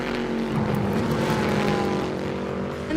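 GT World Challenge America race cars at Virginia International Raceway, engines droning loud and steady with a continuous roar and a rising pitch near the end, no voices over it.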